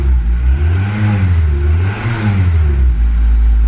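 Standard 2006 Acura RSX four-cylinder car engine running loud and close, revving steadily with a dip in pitch midway, continuous throughout with no talking.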